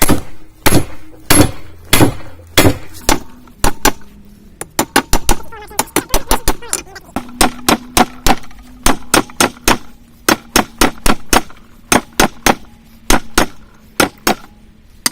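Hammer blows ring out on a hot knife blade being drawn down into a rough ram's-head knife shape, loud sharp strikes in rapid repeated bursts with short pauses between runs.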